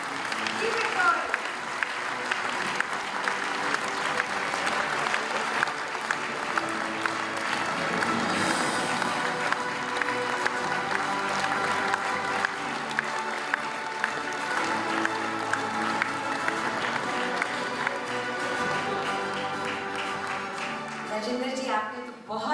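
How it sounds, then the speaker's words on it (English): A large audience at the Dr Batra Positive Health Awards 2025 ceremony gives a long, sustained round of applause, steady and full throughout, with a voice talking over it near the end. "Worthy of a lot of applause. Keep it going."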